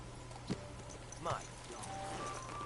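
Faint clip-clop of horse hooves in the medieval role-playing game Kingdom Come Deliverance 2, a few soft isolated steps set low against quiet game ambience.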